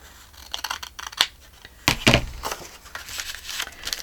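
Scissors trimming the edge of a paper sack, a few crisp snips with paper rustling and crinkling between them, close and alone.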